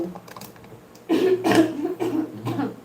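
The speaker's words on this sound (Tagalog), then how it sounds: "Umuubo-ubo pa talaga." A person coughs several times in quick succession, close and fairly loud, over a low background murmur.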